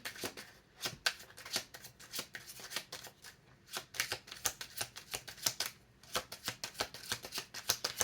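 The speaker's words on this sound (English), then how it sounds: "These cards feel weird, like they don't want to shuffle right." Tarot cards being shuffled in quick riffling bursts, crisp and close, with short pauses between rounds and no talking.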